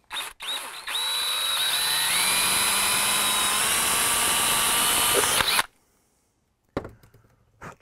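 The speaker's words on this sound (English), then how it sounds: "I'm going to get a drill bit and my ancient drill here. And I'm going to drill a hole in my cap" An old handheld power drill whines as it bores a hole through a plastic cap, rising in pitch over about five seconds of steady, close, loud drilling before it stops, followed by a few faint handling knocks.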